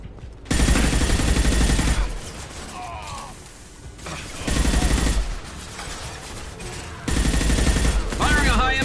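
Loud bursts of high-impact gunfire from the video game Mass Effect 2, three heavy blasts of sustained fire separated by quieter stretches filled with game noise and electronic chirps.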